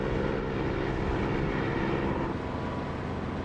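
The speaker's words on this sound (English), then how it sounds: "I like the sound of the engine with the canopy open." An aircraft engine drones loudly and steadily with the canopy open in a flight simulator game, a continuous propeller roar with wind rush and no talking.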